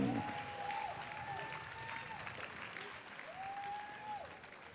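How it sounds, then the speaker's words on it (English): An audience applauds at a Hawaiian slack-key guitar festival, steady clapping filling the room from start to finish while a faint whistle-like tone slides in and out over it. "One more time, a nice round of applause for Chris Lau and Bobby Madero."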